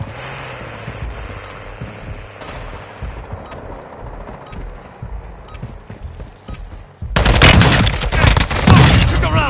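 Bursts of automatic gunfire from Warzone 2.0 erupt loud and dense in the final seconds, following a quieter stretch of game ambience and scattered impacts.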